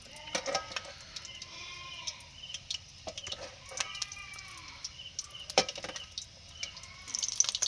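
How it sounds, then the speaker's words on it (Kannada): Lambs bleat again and again, several thin overlapping cries at moderate distance, with scattered clatter and rustling around them. "ಮರಿಗಳು ಒದರಾಡೋದಾವು"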